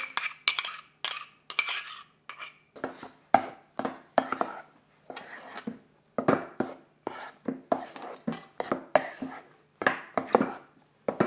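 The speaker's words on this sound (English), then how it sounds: "I'm just going to mix these up a little, add them to the egg whites and make sure they're completely incorporated" Egg yolks are mixed into egg whites in a bowl for a ravioli dough, giving irregular clinks and scrapes of a utensil against the bowl in short bursts with quiet gaps, fairly close.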